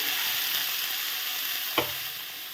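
Chopped radish stems frying in a pan, a constant bright hiss of sizzling oil with one short scrape of a spatula partway through, close and unbroken.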